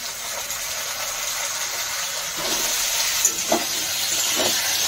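Chopped onions sizzle in hot oil in a pan, a steady hiss that swells a little partway through, with a couple of soft stirring clicks nearby.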